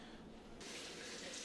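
Water runs from a brass faucet in a house being stripped for scrap copper and brass. The flow starts softly, then opens into a steady, close rushing hiss that continues without any voices.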